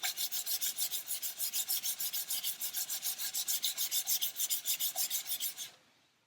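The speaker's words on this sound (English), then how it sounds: "So we're simply going to rub it down with a very, very fine abrasive." Very fine abrasive rubs down a 1/400 scale Queen Mary 2 model hull in rapid, regular back-and-forth rasping strokes, close and steady, stopping abruptly near the end.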